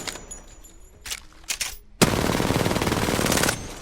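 Hip-fire gunshots in Apex Legends: a few scattered shots, then a loud sustained burst of rapid automatic fire lasting over a second, close and harsh.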